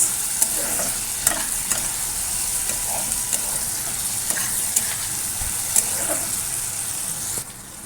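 Spiced peas sizzle and fry steadily in a pan with salt, sugar and chili powder, with occasional scrapes and stirs, close and continuous, fading slightly at the end.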